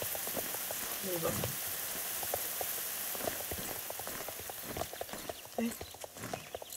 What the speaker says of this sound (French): Il va pleuvoir tout le long du jeu en fait.